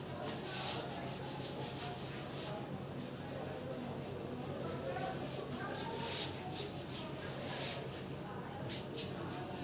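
Rapid scrubbing and rubbing as writing is wiped off a classroom board, a steady near friction sound running throughout at low level.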